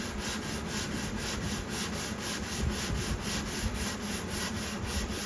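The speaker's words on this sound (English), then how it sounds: "I'm using 80 grit on it right at the moment." Steady, rhythmic rubbing strokes of an 80-grit sanding sponge on a pine guitar body heel, quick and even back-and-forth passes at close range.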